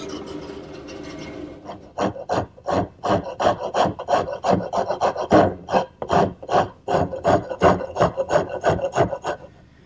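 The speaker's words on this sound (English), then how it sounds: "shape the rest of it with my wood rasp" A wood rasp shapes the curved part of a wooden high chair with a steady series of rhythmic scraping strokes, loud and close, about two per second.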